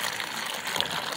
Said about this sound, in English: So pour the water again right in the middle.